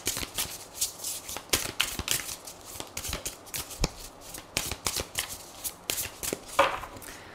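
Tarot cards are shuffled close by in quick, irregular riffles and slaps, a run of crisp papery bursts that keeps up steadily, with no voices.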